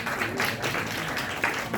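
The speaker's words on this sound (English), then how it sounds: "Give him a clap, yeah, students." Students clapping in a classroom, a short burst of scattered hand claps with muffled voices mixed in, moderately loud and close.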